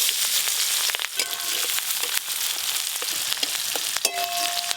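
Chopped onion fries in hot oil with black cumin seeds, crackling and sizzling up close, with scattered sharp pops and occasional stirring scrapes in a steady frying hiss, no talking.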